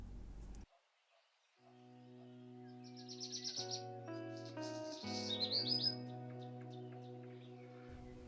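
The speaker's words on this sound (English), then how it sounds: "Birdsong fills the room." Bright bird chirps and trills ring out over a sustained, soft musical drone, the calls building in a quick burst before fading.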